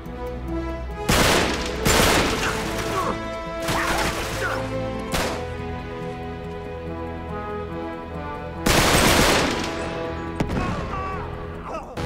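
AK rifle fire in the video game Uncharted 3: Drake's Deception comes in loud, dense bursts of rapid shots separated by pauses, with several heavy volleys and a lingering background din between them.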